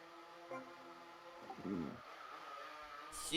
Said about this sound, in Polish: Zdalnie sterowane samochodziki.